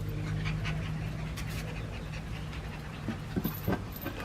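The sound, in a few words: rescue puppies panting and whimpering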